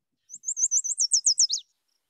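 A yellow warbler sings one short, bright song of about eight rapid rising notes ending in a quick downward flourish, close and clear against silence.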